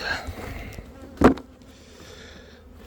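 A steady buzz of honey bees in a weak hive colony hums throughout, with one louder, brief burst near the middle, droning close by.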